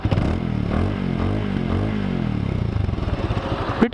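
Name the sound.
motorcycle exhaust note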